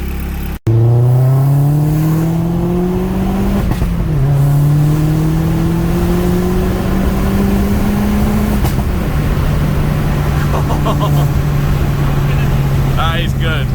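An Astra VXR fitted with a Forge recirculation valve revs loudly up close. The engine note climbs through several long rising pulls, then settles into a high steady drone, with a brief hiss near the end.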